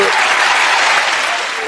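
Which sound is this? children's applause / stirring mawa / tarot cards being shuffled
children's applause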